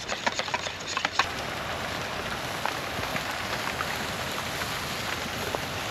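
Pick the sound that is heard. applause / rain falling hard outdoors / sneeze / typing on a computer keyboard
rain falling hard outdoors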